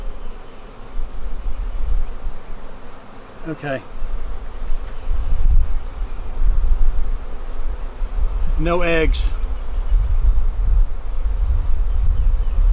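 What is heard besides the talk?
bees buzzing while shaken into hive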